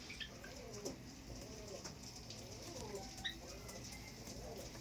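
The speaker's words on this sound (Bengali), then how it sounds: "এটা মাদি পায়রা, প্রচণ্ড ভাইব্রেশন। তো এটা নর পায়রা।" Pigeons of a Madrasi flying breed, male and female, coo in soft repeated throaty phrases at close range, with faint chirps and rustling around them.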